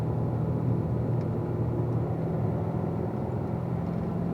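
A race car engine on a track drones loud and steady at high revs, a continuous close rumble with no clear shift breaks.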